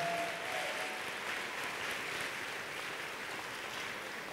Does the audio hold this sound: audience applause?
yes